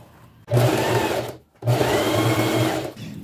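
A sewing machine stitches across a fabric strip in two loud, steady bursts of whirring motor and needle chatter, split by a brief pause, with quiet room tone before and after.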